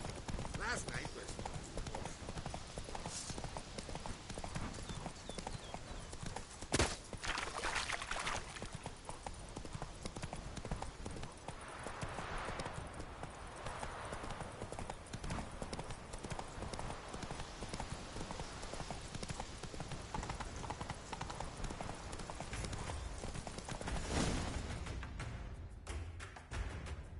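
Hooves of the horse Roach galloping in a video game, a rapid continuous clip-clop rhythm that runs throughout at moderate level while people talk urgently over it.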